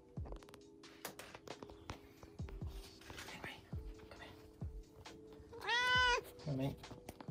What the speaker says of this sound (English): Sketchy cat.